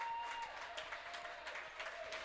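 A nice round of applause from the crowd at a boys high school basketball game between Rhinelander and Wausau East as a player comes out, steady mid-level clapping filling the gym with no talk.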